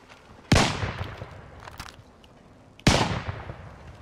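Gunfire in the video game Call of Duty Warzone: two loud, sharp shots about two seconds apart, each trailing off in a long rumbling echo, with no voices.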